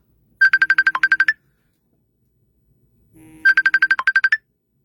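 A mobile phone ringtone plays two clear bursts of rapid, evenly pulsed electronic tones, loud and close, with a silent gap of about two seconds between them.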